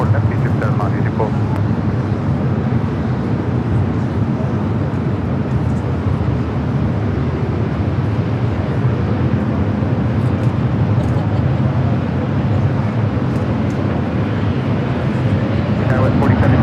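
Egypt Air 984, a heavy jet, takes off from runway 24 left at LAX, a steady loud roar of engines holding evenly throughout with a dense low rumble and some background noise.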